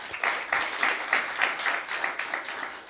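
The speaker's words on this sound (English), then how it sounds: "give him a round of applause" Steady applause from a cybersecurity conference audience, many hands clapping at once in an even wash of sound, fairly close and sustained throughout.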